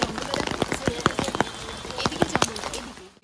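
Rain falling in Darjeeling around the Rock Garden and Batasia Loop, a steady close hiss broken by sharp, irregular drops that tap a nearby surface throughout.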